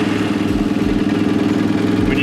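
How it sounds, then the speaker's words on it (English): A motorcycle or dirt bike engine runs at a steady, close idle, with an even low throbbing pulse and no clear revving throughout. "When you press this button,"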